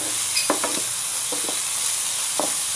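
Onions fry in a pan under a steady sizzle, with a spoon stirring them and scraping the pan in several short strokes, close and clear, with no one speaking.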